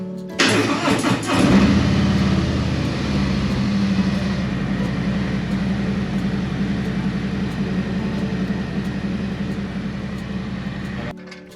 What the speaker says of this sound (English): We're gonna fire up the engine, let it warm up